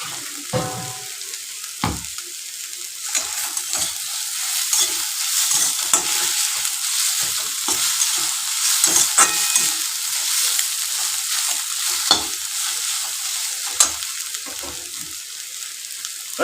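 A tempering for masoor dal frying in a pan, a close hiss of spices in hot oil broken by sharp scraping and clinking stirs at uneven moments, with no voices.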